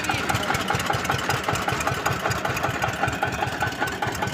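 An Eicher tractor engine idles close by with a steady, fast rhythmic diesel throb, running unbroken throughout.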